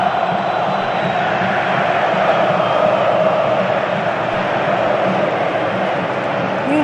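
Corinthians supporters filling the Arena in Brazil after a goal against Flamengo, a broad roaring crowd din of chanting and cheering, steady and distant-sounding, heard alone without commentary over it.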